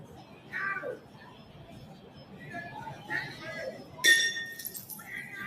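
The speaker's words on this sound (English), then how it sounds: "Whoa, somebody broke some glass." Glass shatters somewhere in Portland: a sudden bright crash with a short clinking tail, heard at a distance through background voices and street noise.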